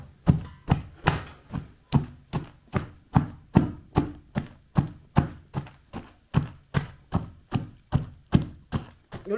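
Homemade cheonggukjang fermented soybeans being pounded with chilli powder: steady rhythmic dull thuds, about two per second, close and fairly loud, with no talk over them.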